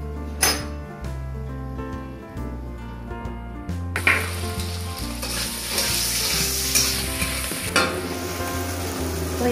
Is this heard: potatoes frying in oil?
yes